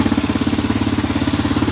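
A Roketa engine runs with a fast, even mechanical tapping knock riding on its steady mid-pitched drone, loud and close, with no voices.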